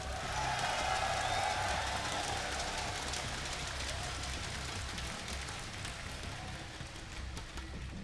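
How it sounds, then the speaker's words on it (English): A large live audience at the NASL Season 3 StarCraft esports finals gives a sustained, loud cheer and applause. The roar is steady and broad, easing slightly toward the end with no clear talk over it. "That was a pretty loud cheer."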